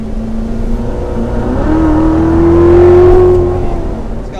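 A supercharged 2016 C7 Chevrolet Corvette Z06 engine revs up close, its pitch climbing smoothly with a rising supercharger whine before easing back off, loud and alone without talk.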